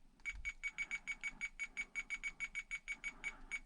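A WFLY X9 radio receiver's low-battery alarm, triggered with the receiver battery at 6.1 volts, beeps in a rapid, steady train of about twenty short, even pulses, loud and close, with no talking.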